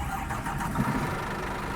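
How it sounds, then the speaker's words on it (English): A coach bus engine in Fernbus Simulator, set in neutral with the parking brake on, turns over and settles into a steady, loud idle rumble that fills the short stretch without pause. "let's get the engine started"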